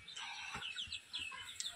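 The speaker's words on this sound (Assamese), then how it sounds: "আৰু এইয়া চাওকচোন, কুকুৰা দেই।" Broiler chickens cluck and chirp faintly in a poultry shed, a few soft, short calls overlapping against a quiet background.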